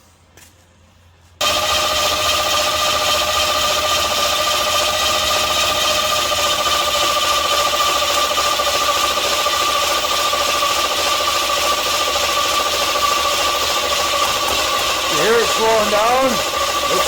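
A Chevrolet square body truck engine being cranked after being mistakenly filled with diesel fuel, a steady loud mechanical drone with a sustained tone that wavers and slows near the end.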